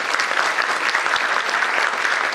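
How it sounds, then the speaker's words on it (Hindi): An event audience applauds to welcome speakers, producing a dense, steady wash of clapping from many hands that stays loud and even throughout. "तो हम लोग शुरुआत करेंगे कुछ तालियों के साथ"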